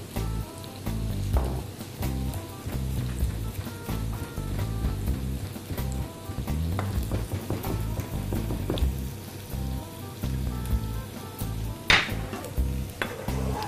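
Browned meat and garlic sizzle steadily in a pan, a loud, dense frying hiss with occasional clinks of stirring, continuous throughout with no voices.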